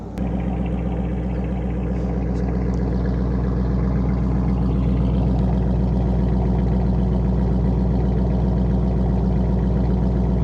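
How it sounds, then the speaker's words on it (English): A 2022 Toyota Corolla fitted with an AR-25 resonator idles just after being started, a steady low droning engine hum that stays even and close throughout, with no talking over it. "my buddy just started his car"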